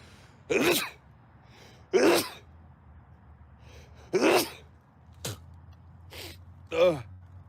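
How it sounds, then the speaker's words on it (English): Several sharp sneezes burst out one after another with pauses between, close to the microphone, amid a few gasps and quiet breaths. "I'm about to sneeze"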